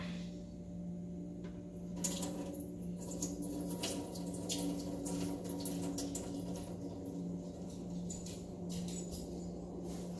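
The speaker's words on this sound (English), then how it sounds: "we're gonna get rid of the salt water" Salt water from pickling cucumbers trickles and splashes into a sink, a steady low pour with small drips and squishy sounds, close by and fairly quiet.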